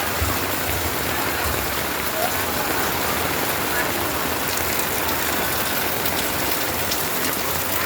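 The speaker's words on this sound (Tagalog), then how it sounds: "Super lakas ang ulan," Heavy rain pours down continuously during Typhoon Kristine in the Philippines, a dense, loud, unbroken hiss of rain on surfaces with no pauses.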